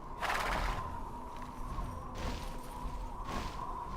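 A horse in the video game Tera lets out a few short whinnies and snorts against a steady hum of game ambience. The calls come in separate bursts spread over a few seconds and sound moderately close.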